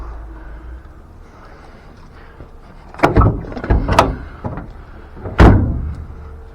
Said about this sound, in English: That door latches nicely.